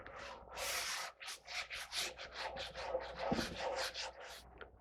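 Sandpaper is rubbed lightly over a finished cedar beer tap head in a quick series of soft, close, rhythmic scratchy strokes, some longer and some short, at low volume.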